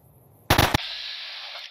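AK-12 rifle fire in the Fallout video game: one loud, rapid burst of several shots, close and harsh, followed by a sustained high ringing tail, with no talking.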